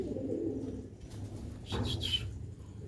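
Young pigeon squabs of the Sialkoti breed coo softly nearby, a few low throaty calls over a quiet background with a brief rustle of movement and no talk.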